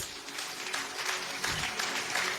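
A church congregation applauds together, a steady, dense wash of clapping that fills the space continuously, with a faint voice underneath.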